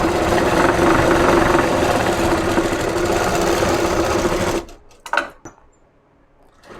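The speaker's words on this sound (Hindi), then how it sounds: "इस प्रकार बरोबर रखकर यहाँ पर सिलाई लगा लीजिए।" A sewing machine stitches a net kurti, its fast motor whir running steadily and close for several seconds before stopping, followed by a few soft handling clicks.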